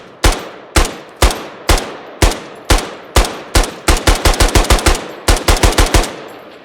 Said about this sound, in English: Here's one of the weapons across many of the kits, being the MPT-76.